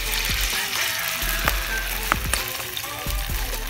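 Steady crackling sizzle of food frying in hot oil, with a few sharp clicks and taps over the continuous hiss.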